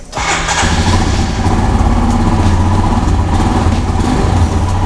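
A Royal Enfield Himalayan 400cc motorcycle engine catches almost at once and settles into a loud, steady idle, heard up close with no talking.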